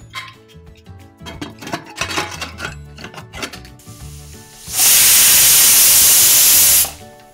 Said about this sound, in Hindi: अब हम प्रेशर कुकर बंद करके इसे 5 विसल के लिए पकाएंगे।